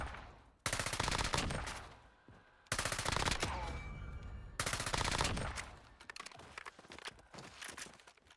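Sniper support gun in the video game Warzone firing in long rapid automatic bursts, loud and close, broken by short pauses and then a few scattered single shots toward the end.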